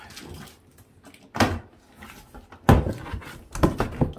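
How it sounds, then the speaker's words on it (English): A Halloween prop's cardboard box being opened, giving a few loud, close flaps and scraping thumps of cardboard with short pauses between them. "Let's just open him up."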